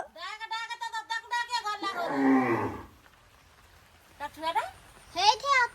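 A cow mooing as it arrives home to its cattle shed in a rural village, giving a long, low, close moo before a muffled scrape, followed by people talking nearby.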